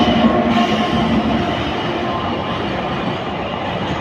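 An empty goods train with no load rolls past nearby, a steady loud rumble of wagons and wheels with faint rhythmic clatter throughout, no talking.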